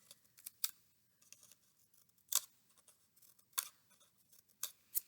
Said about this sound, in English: You can cut it different ways. You might even snip